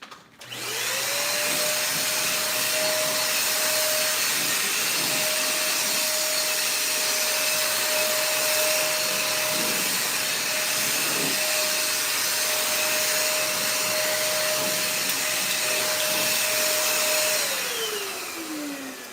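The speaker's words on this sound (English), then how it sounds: "I gotta vacuum the top part of this cushion right here." A vacuum cleaner running steadily on a couch cushion, a loud continuous motor whine that holds for most of the span, then winds down at the end; no talking.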